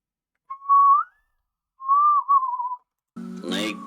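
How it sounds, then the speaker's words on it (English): Two long sustained whistled notes from a song, the second gently wavering, ring out clearly against silence, followed by a brief burst of plucked acoustic instrument sound at the end. "I like that acoustic line with the whistle"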